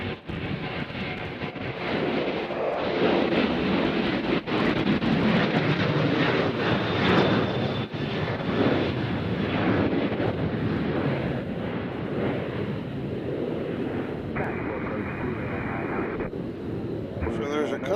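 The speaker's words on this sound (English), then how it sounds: "So there's a couple of normal-looking Southwest that are taking off." Southwest airliners take off at Nashville International Airport, a loud, sustained jet engine roar with wind buffeting the microphone and people talking over it throughout.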